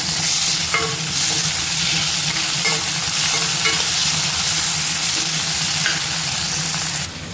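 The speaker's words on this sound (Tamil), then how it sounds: "வெங்காயம் வதங்கிருச்சு. தக்காளி சேர்த்துக்கிறேன்." Onions and tomato fry in a pan with a steady, loud sizzle throughout, broken by a few soft scraping stirs of a spoon against the metal, close up and with no voices.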